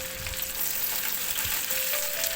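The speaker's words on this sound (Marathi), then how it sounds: "एक कांदा, मीडियम साईजचा कांदा बारीक बारीक कट करून टाकायचा आहे फोडणीला" A medium onion, finely chopped, fries in hot oil with mustard seeds and cumin for a tempering, giving a continuous soft sizzle with faint stirring, fairly quiet and with no talking.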